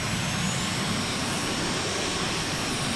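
An Aermacchi MB-339 jet engine spools up in Microsoft Flight Simulator with a steady, loud roar and a thin high whine held above it. It sounds close and unbroken, with no talking.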